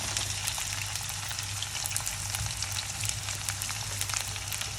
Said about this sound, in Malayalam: ഉള്ളി മൂത്ത് കഴിയുമ്പോൾ അരിഞ്ഞു വെച്ചിരിക്കുന്ന സവാള ചേർക്കാം.